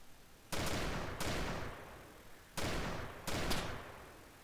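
Gunfire in the ArmA 2 DayZ mod game: four sharp distant-sounding shots in two pairs, each ending in a long echoing decay, with quiet gaps between.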